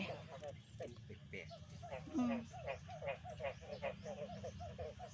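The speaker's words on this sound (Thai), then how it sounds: "เสียงกบกระห้องแซวแซวอยู่" Frogs croaking outdoors in a durian planting area, a rapid series of repeated, rhythmic calls at moderate distance, with a low steady hum beneath.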